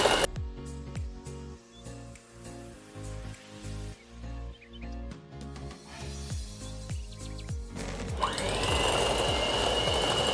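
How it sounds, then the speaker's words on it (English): An electric hand mixer whirs steadily as it beats hot mashed potatoes in a glass bowl, close and continuous, with clattering and a rising higher whine toward the end. "I'm going to slowly beat my mashed potatoes using this machine."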